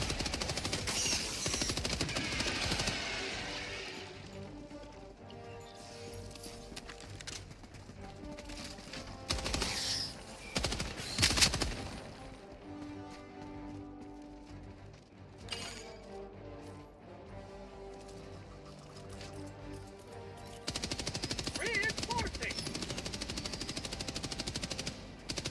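Gunfire in the video game Helldivers 2: sustained automatic weapon bursts and heavier blasts, loud and dense throughout, with brief pauses between volleys.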